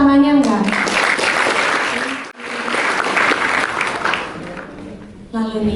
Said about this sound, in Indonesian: Boleh tepuk tangannya enggak?